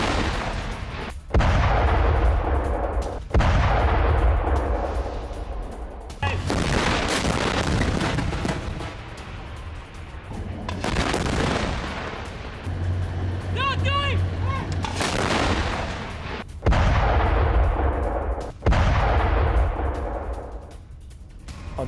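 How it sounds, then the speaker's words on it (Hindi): IDF artillery firing in south Lebanon: a series of heavy booming gun blasts, about eight in all at irregular intervals, each followed by a rolling rumble, with faint voices in between. "आईडीएफ आर्टिलरी फायरिंग में हिजबुल्लाह का बेस नष्ट।"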